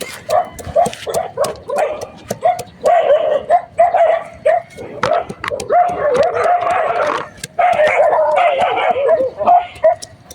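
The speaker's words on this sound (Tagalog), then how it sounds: "Gulo na yung mga aso." Several dogs bark, yip and whimper in quick, overlapping bursts throughout, fairly close and continuous, with occasional voices mixed in beneath the commotion.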